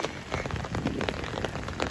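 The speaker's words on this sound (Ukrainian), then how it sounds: "Дощ такий лупить." Heavy rain pouring down outdoors, a dense, steady hiss of drops striking surfaces that fills the short moment without any voice over it.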